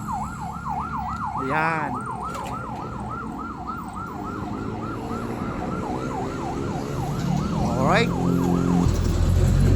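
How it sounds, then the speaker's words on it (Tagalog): Ambulance siren at a highway intersection, wailing steadily in rapid up-and-down sweeps over traffic rumble, with someone speaking briefly twice. "may ambulansya po doon. Intersection po yan, super highway po to."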